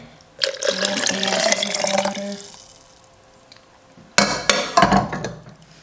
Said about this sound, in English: Okay, let's add the warm water.